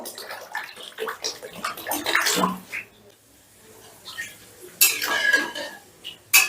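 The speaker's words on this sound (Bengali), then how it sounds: "এবারে গ্রেভির জন্য দিয়ে দিচ্ছি জল জলটা আমি একটু বেশি দিচ্ছি" Water is poured into a pan of rohu fish-tail gravy, splashing and gurgling in bursts with clinks of utensils against the pan. There is a quiet pause midway and a final clatter, and no talk.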